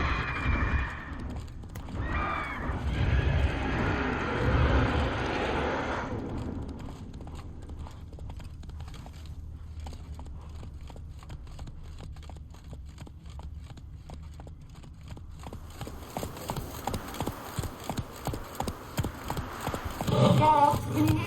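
Geralt's horse Roach in The Witcher 3 galloping, rhythmic hoofbeats with loud neighs and whinnies, the clip-clop fading, then picking up again toward the end.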